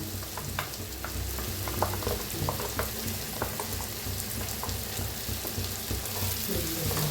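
Green masala paste for an egg curry fries in a pan with a continuous close sizzle, broken by repeated stirring clicks and scrapes, without any talk.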